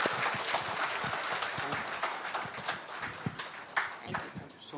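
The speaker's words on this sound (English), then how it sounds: "Big clap for him." Applause breaks out from an audience at the ELTAI English-teachers' conference, a spread of clapping that is loose rather than dense, with scattered louder claps and a muffled voice underneath.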